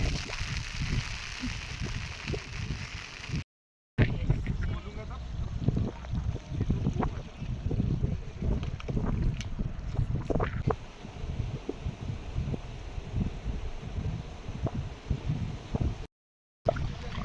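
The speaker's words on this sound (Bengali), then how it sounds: "প্রচণ্ড হাওয়া দিচ্ছে, প্রচণ্ড হাওয়া দিচ্ছে" Strong wind blows at Talamali in the Deomali hills of Koraput, Odisha, buffeting the microphone with a continuous low rumbling roar and gusty thumps, broken by two short silent gaps.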